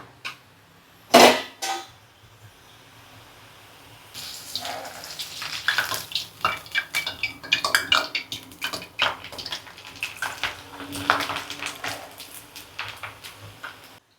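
Spicy sev dough is pressed into hot oil for frying. After a sharp clank near the start, a crackling, bubbling sizzle rises and continues unevenly at moderate loudness.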